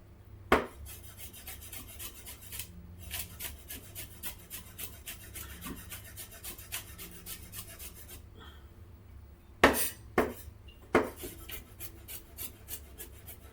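Garlic is minced with a knife, a quick run of soft, steady tapping chops with a few sharper, louder strikes, close and quiet with no talking.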